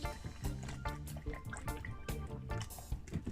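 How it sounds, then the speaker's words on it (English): About a cup of almond milk is poured onto oats, making a faint, steady liquid fill with a few drips and splashes and nothing else heard. "I'm going to pour about 1 cup of almond milk in it."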